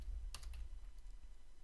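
Keys clack on a computer keyboard in a short, quick burst of several close taps near the start, then a few fainter scattered clicks over a low steady room hum.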